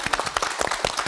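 A studio audience on a Korean morning talk show claps in dense, steady applause at close range, many hands together for the whole moment.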